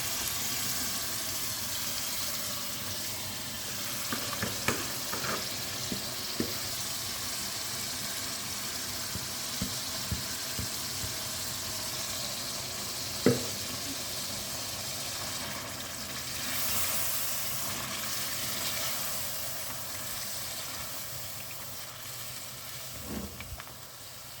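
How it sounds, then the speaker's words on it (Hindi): Marinated chicken for chicken karahi sizzles and fries in golden-brown masala, a soft continuous hiss with occasional clinks and scrapes of a utensil, fairly quiet with no talking. "अब हम इसमें अपना मैरिनेटेड जो चिकन है ना वो ऐड कर"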